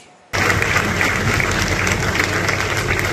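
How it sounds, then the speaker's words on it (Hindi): At a literary event in the Rabindranath Tagore Bhavan, the audience bursts into loud, dense applause after a brief quiet moment, sustained and full for the rest of the clip. "आपकी तालियों में वो खुशी झलकनी चाहिए कि आप जवान हैं इस ऐतिहासिक लम्हे पे।"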